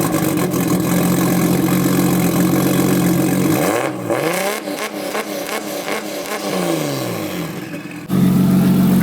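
Turbocharged Datsun 280Z engine idling close by, then revved hard with quick rising and falling bursts before settling back to a rough steady idle, loud and near, no talking.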